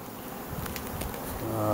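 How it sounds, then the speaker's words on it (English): Honeybees buzz around the entrance of a freshly placed hive box, a dense close hum with individual bees flitting past, rising slightly in loudness toward the end. "I got a little bit of bee still hanging underneath of there"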